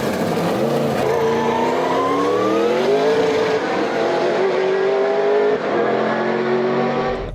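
A twin-turbocharged V8 Mercedes roadster racing variant of the 1990s, making around 800 horsepower, revs loudly and close, its engine note climbing and falling through several throttle sweeps with a harsh, rich roar.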